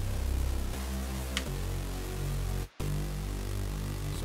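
A deep synthesized bass line made in the Vital synth pulses in steady repeated notes, with a brief dropout near the end before it resumes.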